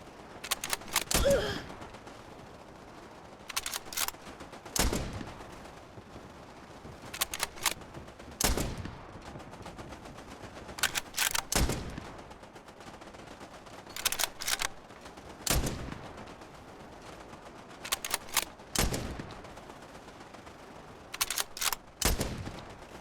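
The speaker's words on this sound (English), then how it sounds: "I quite like using the sniper rifle. Sniper rifle or assault rifle is what I usually go for." Gunfire from a sniper or assault rifle in the space combat game Spacebourne 2 comes in sharp bursts of rapid shots, repeating every few seconds over quiet background hum.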